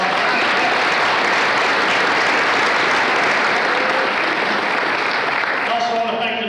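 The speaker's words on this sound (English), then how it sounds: "Let's give them another round of applause." A dense, loud wave of audience applause fills a planning-commission event hall, sustained clapping from a large crowd that begins to thin out near the end.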